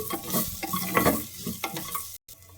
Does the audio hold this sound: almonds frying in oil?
yes